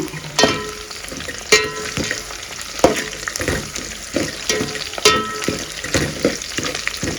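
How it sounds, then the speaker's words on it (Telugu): Onions fry in oil with masala, a close, bright sizzle punctuated by repeated spatula scrapes and clanks against the pan at an uneven rhythm, with no one speaking. "ఎర్రగడ్డలు బాగా వేగుతున్నాయి"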